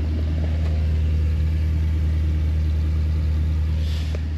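A 1978 Mercedes 450SL idles at about 1100 rpm, its exhaust giving a steady, close, low rumble that holds even throughout, with no voices.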